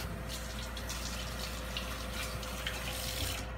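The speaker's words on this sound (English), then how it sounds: "Let me wash my hands here." Tap water runs steadily into a kitchen sink while hands are washed, a continuous close hiss and splash with no talking.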